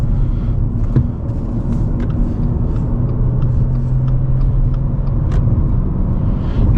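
Interior road noise of a 2022 Subaru Impreza base model with manual transmission driven gently, a loud steady low rumble with engine drone that shifts in pitch midway and faint clicks and knocks over the top.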